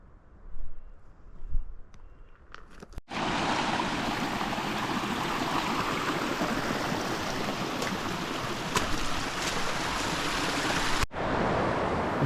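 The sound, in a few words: river flowing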